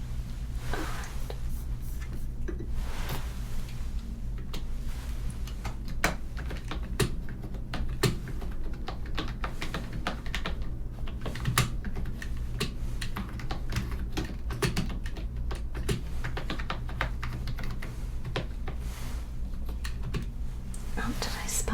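Soft, close keyboard typing on a computer runs almost continuously in quick, irregular clicks through a quiet ASMR-style setting, with faint whispered talk now and then.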